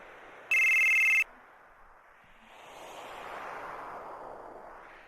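A cell phone rings once in Final Fantasy VII, a loud electronic trill lasting under a second, then a low ambient game rumble swells beneath it.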